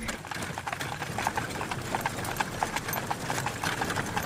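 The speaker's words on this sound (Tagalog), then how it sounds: "pababa na rin sila ng kani-kanilang mga kabayo ni Ingkong at ni Pipito" Horses' hooves clip-clopping as an audio drama effect, a steady rhythmic stream of close, crisp hoofbeats from several horses that continues throughout, loud and with no speech.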